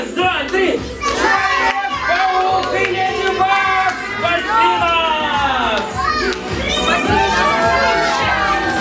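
A crowd of young children shout together at a one-year-old's birthday party in a kids' play room, loud overlapping cries and calls rising and falling, with an adult voice leading among them.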